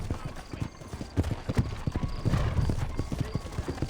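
Horse hooves galloping in Red Dead Redemption, a rapid irregular clip-clop of hoofbeats on the ground with a faint snort or whinny mixed in, fairly close and continuous.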